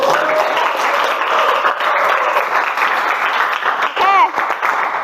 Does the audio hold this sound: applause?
yes